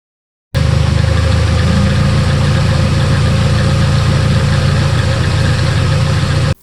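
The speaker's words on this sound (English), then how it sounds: "the car is running great, does not make all the obnoxious sounds it was making before" A Nissan 240SX S13 engine idles after its timing chain tensioner was replaced and new spark plugs and plug wires were fitted. It gives a loud, steady, close rumble from start to finish, with no talk.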